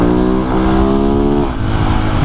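Husqvarna motorcycle engine revving loudly and close during street wheelies on a cruise night, pitch holding steady then dropping and settling into a lower idle-like drone.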